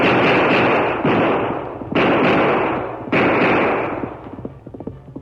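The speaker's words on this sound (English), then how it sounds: "12 shots rang out through the silent night." Revolver shots fired into the air at night in an old-time radio drama: loud, booming gunfire in heavy overlapping bursts with rolling echoes, fading into crackling tails at the end.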